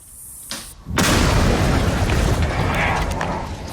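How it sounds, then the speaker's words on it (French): A massive explosion of 38 kg of TNT blowing up an empty postal van erupts after a brief pause, a deep roaring boom that sustains and rumbles for seconds, very loud with a broad blast of noise. "explosion de contrôle, fourgon postal vide, 38 kg de TNT à 3, 2, 1"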